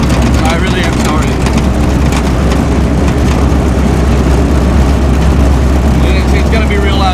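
A roofless 1947 Willys Jeep, not street legal, rumbles loudly along a gravel road, its engine drone and rolling crunch steady and overwhelming throughout with no break.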